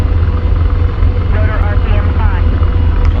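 Steady low rotor drone and turbine whine of an AH-64D Apache helicopter in DCS World, hovering loud and constant through the whole stretch, with faint flickering tones above it during a slow landing with damaged landing gear.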